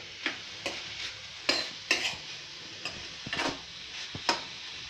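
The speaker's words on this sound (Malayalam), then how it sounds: "ഇത് ഇടയ്ക്കൊന്ന് ഇളക്കി നോക്കാം." Green bean thoran (vallipayar with grated coconut) stirred in a pan: a series of scraping, clattering stirs over a low sizzle, fairly faint and spaced irregularly, with no talk.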